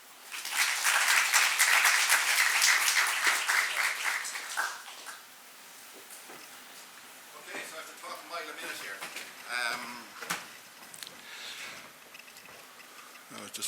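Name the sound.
audience applause welcoming the speaker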